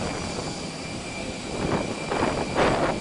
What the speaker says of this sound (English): That's our plane. I hope it flies.